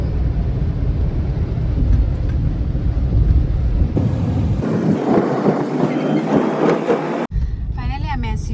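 Heavy rain with a thunderstorm in Odisha, a dense, loud, continuous broadband roar that shifts in texture midway and ends in a sudden cut to quieter sound.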